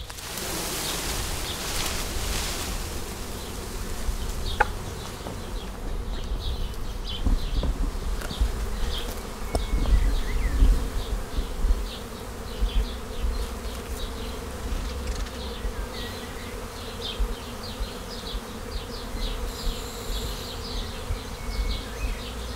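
Honeybees swarm around an open hive during beekeeping work, a dense, steady buzz of many insects that holds loud and close for the whole stretch, with some rustling underneath and no talking.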